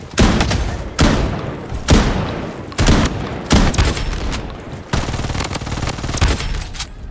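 Loud, close bursts of gunfire from a burst weapon in the shooter game BloodStrike, with several heavy volleys cracking and rattling in fast succession and short gaps between them, and no talking.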